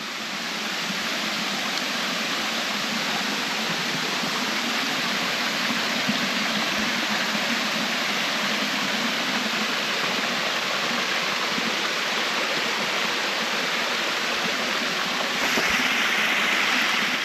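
Waterfall at Round Island Falls, a loud, continuous rushing roar of falling water that stays steady and dense throughout, heard close with no talk over it.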